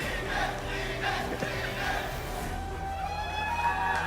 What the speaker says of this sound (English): We can hear the cheer for our champion, Kyo.